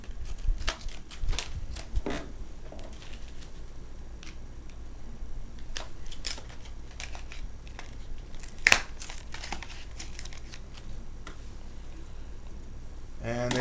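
Plastic packaging around a Value Select laptop memory module for an HP Pavilion g7 crinkles and crackles nearby as it is cut open. Steady rustling is broken by scattered clicks and one sharper snap partway through.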